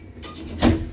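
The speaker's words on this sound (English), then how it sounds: "Doors closing." Doors of a 1989 H&C lift, modernised by Axis, sliding shut in a brief rumbling glide that ends in a soft, close thud, heard alone.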